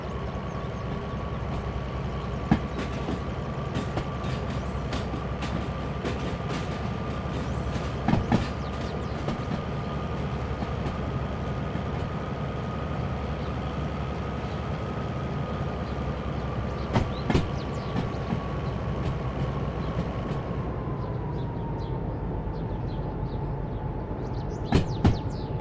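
A train rumbles past in a video game, a long steady roar with a sustained whistle-like tone and occasional clanks and clicks over about twenty-five seconds, with no talking.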